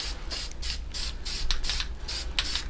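Spray paint can putting a light coat on a wheel during a DIY wheel refurbish, heard as a series of short hissing bursts in a steady rhythm, close and fairly loud, with no talking.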